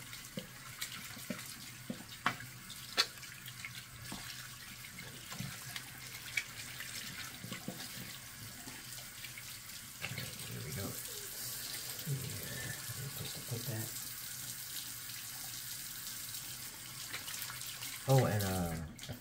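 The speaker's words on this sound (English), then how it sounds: "let me rinse this off. Or rinse the puck." Running tap water rinses a honing stone puck over a sink, a steady hiss and splash with a few brief clinks and knocks, moderately close, fairly quiet, with no talk.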